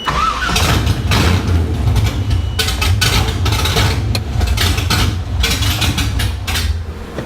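An LS1 V8 swapped into a Nissan 240SX cranks and fires up for the first time, then runs loud and rough with uneven revs, a close, continuous engine roar without talk.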